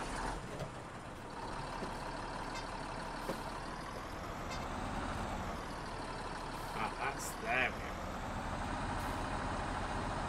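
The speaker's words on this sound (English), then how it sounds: "we'll head over to our tractor, and I will take this home." Tractor engine in Farming Simulator 19 driving along a road at night towing a trailer, a steady continuous drone with a few brief higher mechanical sounds layered on top.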